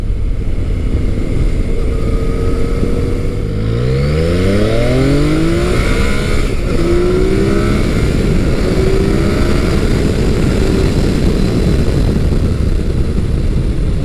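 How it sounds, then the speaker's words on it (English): A Yamaha FJ-09 motorcycle on its stock exhaust revs and accelerates under heavy wind roar, the engine note rising quickly through several gears, fairly quiet beneath the rushing air. "That motor just picks up revs so quickly"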